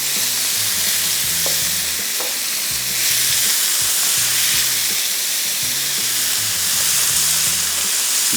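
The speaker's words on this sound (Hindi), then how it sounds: "तो चिकन को तेज़ आंच पे थोड़ा सा फ्राई किया" Chicken pieces fry hard in a pan over high heat, a steady loud sizzle running throughout with a few stirring scrapes and clinks near the start and brief surges of hiss.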